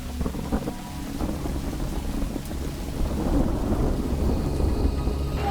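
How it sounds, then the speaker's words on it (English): Steady rain pours with deep rumbling thunder before an outdoor stadium concert, a continuous dense wash that swells slightly toward the end, with no voices. "it's raining, but we're still gonna Bloody play."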